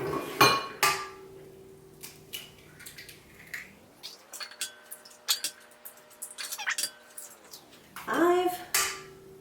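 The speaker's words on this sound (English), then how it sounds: "you'll need 6 eggs. Go ahead and crack them into your mixing bowl" Six eggs are cracked one after another into a mixing bowl for Norwegian sour cream waffles, giving sharp clinks and taps on the bowl between stretches of talk.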